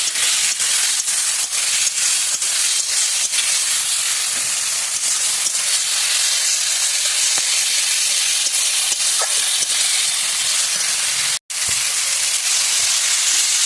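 Spice masala sautés in a pan with a splash of water, giving a loud, unbroken close-up sizzle and hiss that runs throughout, cut once by a momentary gap near the end.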